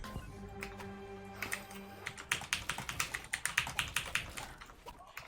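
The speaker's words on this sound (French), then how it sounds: "Oh mon dieu, le clavier, j'entends gaver." Rapid clattering keystrokes on a Ducky Channel One 2 mechanical keyboard, starting sparse and building into a dense, loud burst of typing from about two seconds in, close to the microphone with no talking.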